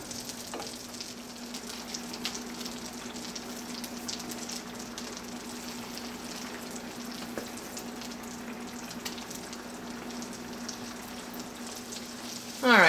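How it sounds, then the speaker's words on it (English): Risotto simmers and sizzles in a nonstick skillet as it is stirred, a steady soft bubbling and frying hiss under a constant low hum, with a sharper scrape right at the end. "we need to keep an eye on this risotto, and we should probably stir it quite frequently"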